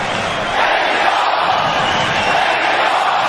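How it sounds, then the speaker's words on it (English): A large arena crowd at the Canelo Alvarez vs Caleb Plant boxing match roars and cheers steadily throughout, a dense and continuous wash of noise. "There is no question about this crowd being into this fight."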